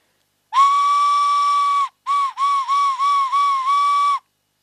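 Handmade prehispanic clay whistle being blown, a pure high piercing tone held for over a second, then a short gap and a series of quick repeated blasts, loud and close with no talking.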